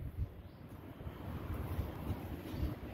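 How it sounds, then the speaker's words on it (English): Steady outdoor wind buffeting a microphone on a windy day, a continuous low rumbling roar with gusty swells and no voices. "It's windy out."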